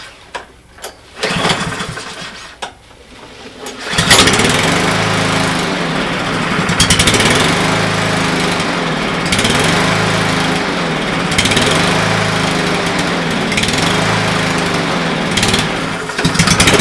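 A Cub Cadet MySpeed walk-behind lawn mower pulls into life after a few quiet sputtering seconds, then runs steadily and loud with a rhythmic, pulsing engine drone close by, no talking over it.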